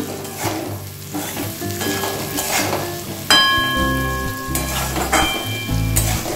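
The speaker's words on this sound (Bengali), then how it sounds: "এটা অনেকটাই ভাজা হয়েছে" Loud, continuous sizzling of pointed gourd frying in a pan, with stirring scrapes and clinks of a utensil against the pan throughout.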